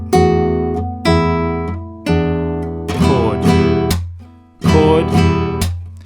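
Fingerstyle acoustic guitar picking the stomp-clap chorus riff of a song, with single notes and strummed chords in a repeating phrase of sustained, ringing attacks, played close and alone.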